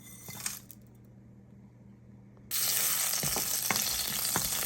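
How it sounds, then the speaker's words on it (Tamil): Cumin, cinnamon, cloves, bay leaf and green chili dropped into hot oil for a Tamil mushroom gravy, first a quiet stretch with faint clinks, then a loud, steady sizzle bursting up near the mic and crackling continuously to the end. "இப்போது சீரகம், பட்டை, லவங்கம், பிரிஞ்சி இலை, பச்சை மிளகா போடுறேன்"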